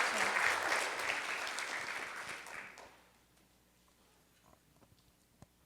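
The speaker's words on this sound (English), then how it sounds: "Let's give Tanisha a round of applause" An audience at an evening arts talk gives a round of applause for Tanisha, dense clapping from a full room for about three seconds, then fading out into quiet room noise with a few stray sounds.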